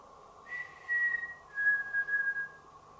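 During a night ghost investigation, a thin high whistle sounds faintly in two drawn-out phrases, the first short and the second longer and wavering, with no talk over it.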